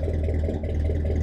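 A 1969 Mercury engine idles steadily on its own after its first start in 16 years, a continuous close whirring rumble with a slightly uneven beat and no talking.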